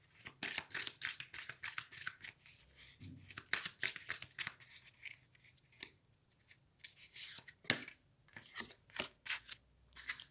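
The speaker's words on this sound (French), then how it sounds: "je reprends juste une dernière carte" Tarot cards are shuffled and drawn, with crisp riffling and slapping bursts in quick irregular runs, close and fairly loud, separated by short quiet gaps and a sharp snap near the end.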